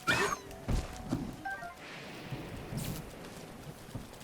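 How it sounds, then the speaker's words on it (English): Rain and a thunderstorm play in the Zelda Breath of the Wild video game, with steady rainfall, thunder rumbling low, and a few sharp thuds. "This whole place is stormy weather?"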